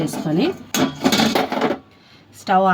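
A metal kadai is handled on a stove while mint chutney is being prepared, making a few brief clanks and clinks mixed in with someone talking nearby.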